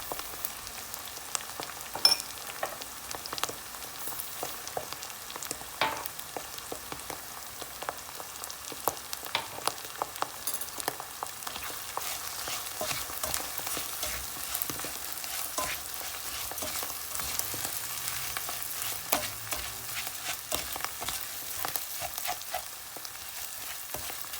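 Rice and bulgur toasting in a pan give a steady, soft crackling sizzle with scattered light pops and occasional stirring scrapes, close and even throughout with no talking.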